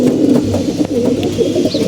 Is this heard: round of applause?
no